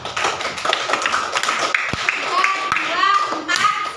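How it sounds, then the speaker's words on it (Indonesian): A class of children in an Indonesian classroom claps hands together, a few seconds of brisk, fairly close clapping with some voices mixed in. "Tepuk tangan semuanya"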